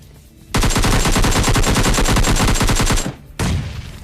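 Rapid automatic gunfire from the PUBG Lite battle royale game, a loud sustained burst of closely spaced shots lasting about two and a half seconds, then a brief gap and a short second burst.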